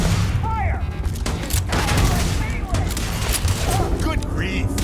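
Heavy gunfire fills a Starfield combat scene, rapid bursts and booming shots firing nearly nonstop over a low rumbling background, with short voice lines breaking through.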